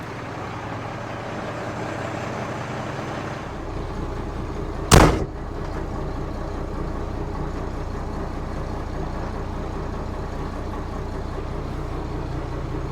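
A 1979 International dump truck with a Detroit DT466 diesel engine drives along, a steady, low, rumbling drone throughout, broken once by a single sharp bang partway through.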